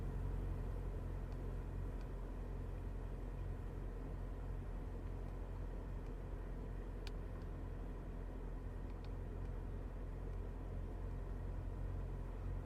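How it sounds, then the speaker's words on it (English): A Chevrolet Corvette ZR1 engine idles in a steady, low, continuous rumble heard from inside the car, with no revving and only faint clicks over the drone. "Car is running."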